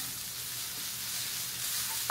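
Ginger, garlic and coriander paste frying in a pan, a dense steady sizzle close up, ending with a brief scrape of the spoon as it is stirred, no one talking.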